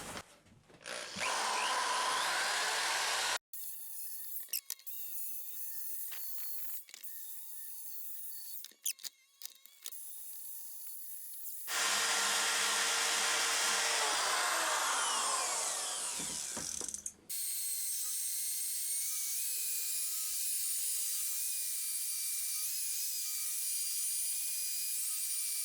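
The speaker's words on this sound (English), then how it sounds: "I know it's a little early for the sanding disc, but I really want to see how well this cleans up." A sanding disc on a power tool cleans up a primitive axe head, giving long loud whirring and grinding passes broken by brief stops and short bursts, close up with no talking.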